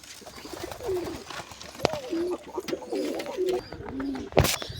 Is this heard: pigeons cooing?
yes